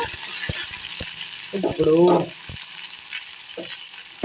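Cut green chillies frying in a pan for a vaamaku and curry leaf chutney, a continuous close sizzle with a few stirring clatters and a louder burst midway, under a voice speaking briefly.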